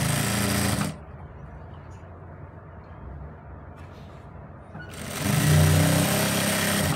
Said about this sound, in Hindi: और यहाँ से हम सिलाई शुरू करेंगे।